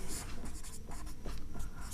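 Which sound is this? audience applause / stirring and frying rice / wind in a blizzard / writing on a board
writing on a board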